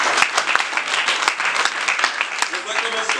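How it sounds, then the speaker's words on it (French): Audience at a spiritual organizations' conference breaks into applause, a dense wash of clapping with distinct individual claps cutting through, while a voice talks over it. "Vos acclamations s'il vous plaît."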